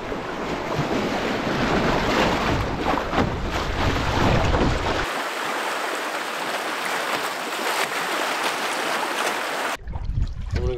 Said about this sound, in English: A little bit of moving water for me to run.